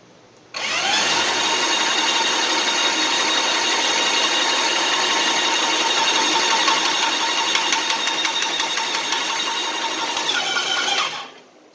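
A Graco 650 airless paint sprayer pump starts abruptly and runs at full volume, a loud steady mechanical buzzing drone with a rapid pulsing rattle, continuing for about ten seconds before cutting off.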